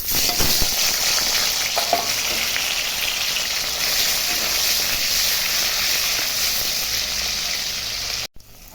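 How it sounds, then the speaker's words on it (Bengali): Pieces of paneer fry in hot oil in a wok, a loud, steady, close sizzle with light crackling throughout, ending abruptly, no one speaking. "ওই তেলে এখন পনিরগুলো একটু ভেজে নেব"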